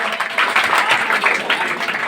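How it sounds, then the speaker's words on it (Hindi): Brief burst of audience clapping at a village coaching centre's results ceremony in Madhubani, Bihar, close and fairly loud with uneven rhythm and a little crowd noise. "तालियां बजती रहनी चाहिए"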